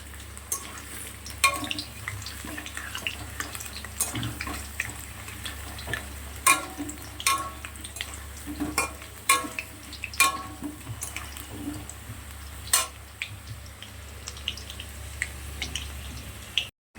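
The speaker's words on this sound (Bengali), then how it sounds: "এদিকে দেখো কড়াতে আলুগুলো ভাজা হচ্ছে।" Potato pieces frying in a wok for chicken biryani give a light, continuous sizzle with scattered ticks, drips and occasional utensil clicks, close by and moderately quiet, with no voices.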